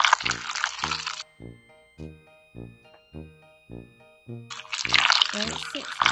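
Water rinsing in a paper doll ASMR makeover, with bursts of running, pouring water at the start and end and soft drips and sounds between, under a speaking voice.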